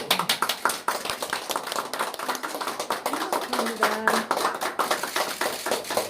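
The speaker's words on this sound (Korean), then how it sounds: "자, 박수 한번 칠까요?" A crowd applauds steadily and continuously at close range at an office opening ceremony, with a voice briefly heard over the clapping partway through.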